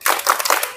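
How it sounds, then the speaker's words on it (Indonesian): Three quick, crisp claps in rhythm from a sixth-grade class doing a spirit clap during a pencak silat martial arts lesson, close and loud. "tepuk semangat dulu ya"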